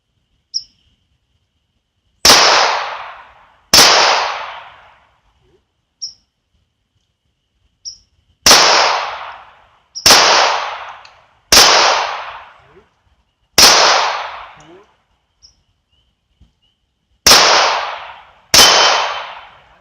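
Gunshots from a handgun without sights fired outdoors beside a vehicle: eight loud, sharp reports in an irregular series, each ringing briefly, with small clicks and silence between them.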